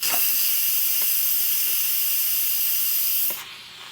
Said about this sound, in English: you just let it come down from pressure as the steam releases until you don't hear it anymore